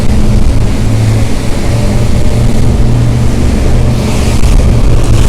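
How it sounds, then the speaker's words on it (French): Strong wind buffets the microphone aboard a Vendée Globe racing sailboat at sea: a loud, continuous roar with heavy low rumble and hiss that never lets up, and no one talks. "il y a beaucoup de vent et j'ai bien peur que le micro sature énormément"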